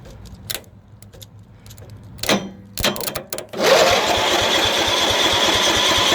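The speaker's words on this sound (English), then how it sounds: "if we were to touch this red wire to that starter, it should theoretically turn the motor over" A Murray riding mower's starter cranks the engine over, a few short clicks and bursts followed by a steady, loud whirring crank that runs continuously to the end.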